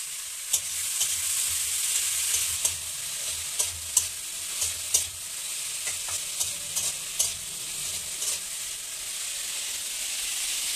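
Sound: stir-frying potatoes with spring onion

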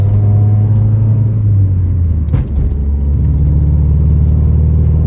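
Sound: Honda Civic EK engine misfiring at low RPM while driving

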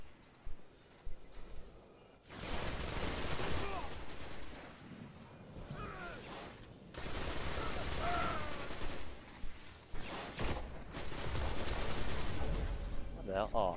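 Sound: sniper rifle gunshots in Hunt: Showdown video game

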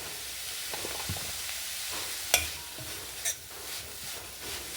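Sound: frying masala stuffing in a pan

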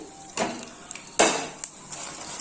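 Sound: stirring fenugreek, red chillies, cumin and coriander seeds in pan

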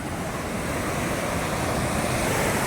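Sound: rough sea waves at Veli beach

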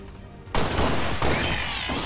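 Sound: pistol shots in the video game XCOM 2

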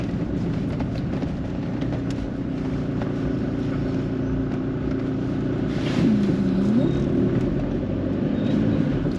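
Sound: car driving on mountain roads near Shimla

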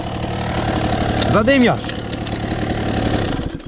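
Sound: KTM SX 85 motocross bike engine running

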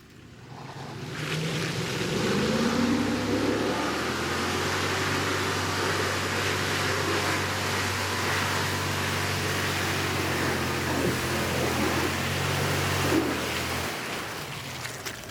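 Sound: Lexus GX 470 V8 engine at high revs off-road

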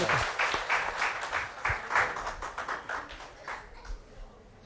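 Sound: audience applause welcoming a guest

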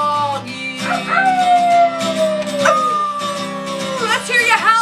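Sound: people imitating a dog howling

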